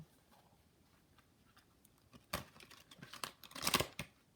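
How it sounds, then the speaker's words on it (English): Stiff tarot cards give card-like flicks and crisp papery snaps while being shuffled, quiet at first, then a cluster of sharper riffling bursts near the end, close and with no talking. "these cards are a bit stiff, so it's hard to shuffle."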